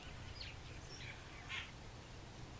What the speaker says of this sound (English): you can again hear the birds